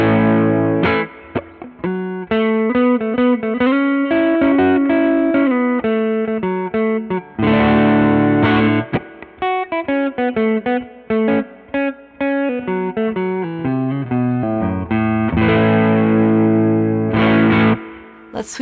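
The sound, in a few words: electric guitar through a pedal on neck P90 pickup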